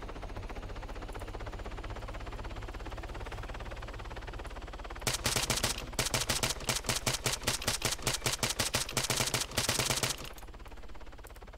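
Rapid bursts of automatic gunfire in Arma 3 Altis Life shooting at a helicopter, loud against a constant rumbling background drone and lasting around five seconds before ending.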